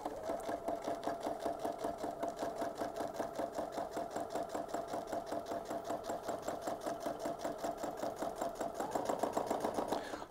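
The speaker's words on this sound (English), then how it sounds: "I'm going to go ahead and get ready to stitch around this." A sewing machine stitches around a section of a glow-in-the-dark sugar skull quilting project. The needle clatters in a fast, even, continuous rhythm, close and moderately loud, and quickens slightly near the end.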